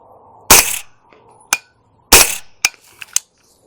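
Gunshots from a suppressed 9mm direct blowback pistol caliber carbine fired left-handed outdoors: two loud, sharp reports about a second and a half apart, each followed by shorter metallic clacks of the action.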